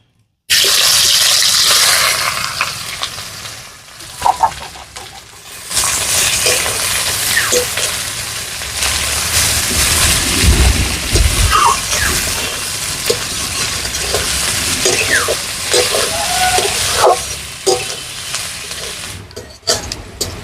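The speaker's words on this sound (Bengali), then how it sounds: "আমাদের পেঁয়াজটা লাল লাল করে ভাজা হয়ে গেছে" Chopped onions fry in oil after potatoes for a Bengali chicken curry, producing a loud, close, continuous sizzle with frequent stirring and scraping of the pan until they turn reddish brown.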